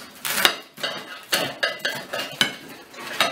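A knife saws through a crusty loaf of whole-grain cocotte bread, giving a series of regular crackling, scraping strokes about every half second, close and fairly clear with no talking.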